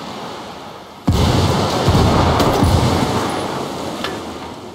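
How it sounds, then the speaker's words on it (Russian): A grenade goes off in the Ghost Recon Wildlands video game as one sudden loud boom, then a long rumbling roar that slowly fades. "Они услышали взрыв."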